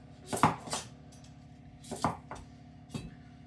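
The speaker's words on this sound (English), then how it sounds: "Don't chop down, try to use a blade to go around that way so it actually cuts" A knife cutting ingredients on a board for sweet potato brownies, giving three or four separate close knocks and slicing strokes with short pauses between them, over a quiet kitchen background.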